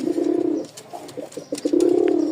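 A pair of Rajshahi pigeons coos close by in two rolling, throaty bursts, with quieter soft clicks and shuffling between them.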